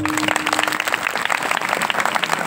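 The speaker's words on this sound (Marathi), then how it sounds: "हे जे नाचते नसते सगळं टाळ्या वाजवा." Audience members at a devotional kirtan gathering clap their hands together, a dense, lively patter of many claps that holds steady and close for a couple of seconds.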